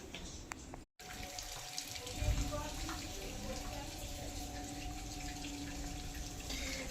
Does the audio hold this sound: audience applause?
no